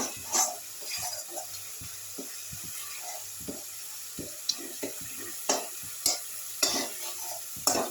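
Spice masala for papaya kofta curry fries in oil while a spoon scrapes and stirs the pan in irregular, close strokes over a soft background sizzle, with no voices.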